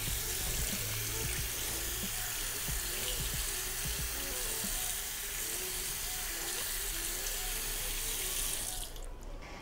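A dental splint rinsed under a running tap: a steady, close rush of water splashing into a sink that continues unbroken, then cuts off abruptly near the end.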